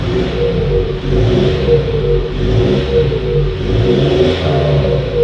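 A Mitsubishi Pajero Sport SUV revs repeatedly in close, throaty surges through an HKS aftermarket exhaust, rising and falling in a steady rhythm with no talking.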